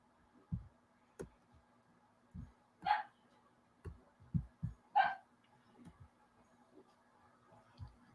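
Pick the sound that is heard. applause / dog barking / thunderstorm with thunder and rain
dog barking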